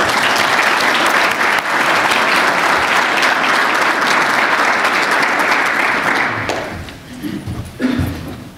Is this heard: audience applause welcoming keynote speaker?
yes